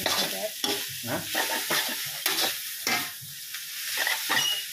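Homemade chicken chow mein is stirred in a hot pan, with repeated scraping strokes about once a second over a loud, steady sizzle close to the listener.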